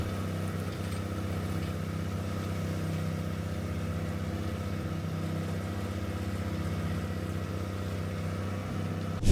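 Tractor engine idling on a farm, a steady, even mechanical drone with a low hum that holds unchanged throughout, with no voices.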